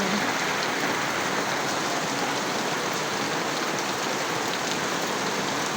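Steady, heavy rain pouring continuously, a dense hiss of drops hitting surfaces with no pauses or voices.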